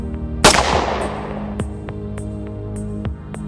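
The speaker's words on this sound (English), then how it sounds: "The gunshot cracked sharply." A single sharp rifle shot cracks loudly up close and rings out into a decaying tail, followed by faint clicking sounds.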